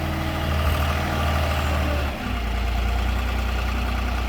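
A forklift engine idles steadily and loudly nearby while tile pallets are being stacked, with a low, constant rumble that dips briefly partway through and then settles into an even drone.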